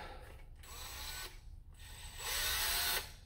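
A part on a toy mission kit is tightened, with bursts of small ratcheting, mechanical clicking close by, separated by short pauses and growing louder in the last stretch.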